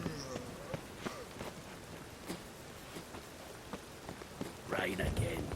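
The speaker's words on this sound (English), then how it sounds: "Rain again." Rain in the video game The Witcher 3 patters softly on a surface, with scattered sharp drops and taps over a quiet hiss; a louder burst of sound rises near the end.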